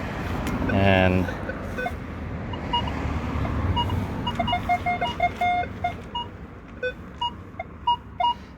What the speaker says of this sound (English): We're just going to wave the Minelab Equinox detector over this